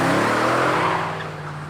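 Video-game truck speeding past through a red light in Digimon Cyber Sleuth, a loud engine roar with tire noise that fades slightly as it passes, alone without talk.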